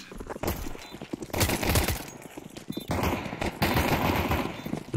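Rapid bursts of gunfire in Counter-Strike 2, loud and close, with several clustered volleys and short gaps between them, heard alone with no talk.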